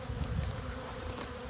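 Honey bees buzz steadily around spring hives being moved and assessed, a dense continuous drone of many insects close by with no talking.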